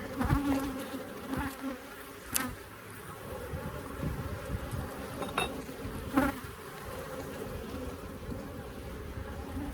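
Honey bees buzz steadily around hive frames from a bee yard while a queen castle is prepared, a dense close hum with a few louder passes near the ear.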